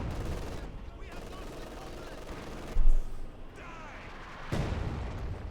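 Artillery shells burst during a Company of Heroes 2 battle: a sustained din of gunfire and booms with a loud blast near the midpoint and another heavy impact later, while a commentator talks over it.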